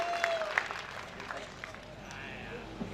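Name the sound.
audience clapping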